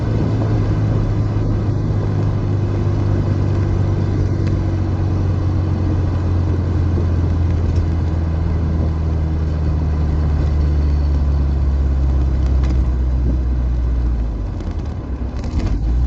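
A car drives with its roof open, giving a steady, loud engine rumble and road and wind noise that holds for the whole stretch and eases slightly near the end, with no talk.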